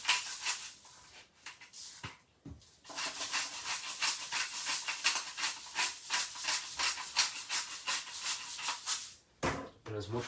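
Asparagus sizzling in butter in a pan, a steady close crackling hiss that runs almost without a break, dropping out briefly twice.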